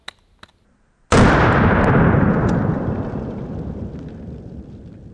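A single loud revolver gunshot fired at close range, an abrupt blast with a long rolling echo that fades slowly over several seconds, preceded by a couple of faint clicks.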